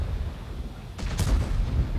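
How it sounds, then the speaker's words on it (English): A tank gun fires a single shot in the World of Tanks video game, a sharp crack and short booming burst rising over a constant low engine rumble. "We try to get another second shot into him"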